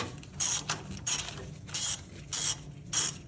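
A hand ratchet clicks in regular bursts while backing a bolt out of the oil cooler on a 1997 7.3L OBS truck engine, about six close, crisp strokes separated by short pauses.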